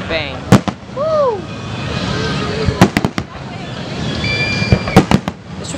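Fourth of July fireworks in San Clemente, sharp cracking bangs bursting in clusters at varying distances over a constant crowd murmur, with whistling rockets rising between the explosions.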